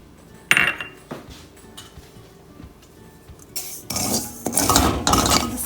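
Poppy seeds roast in a pan while a spoon stirs them, giving close metallic scrapes and clatters, sparse at first, then a denser stretch of continuous scraping toward the end.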